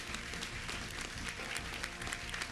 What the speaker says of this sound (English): as we give a round of applause to both of our candidates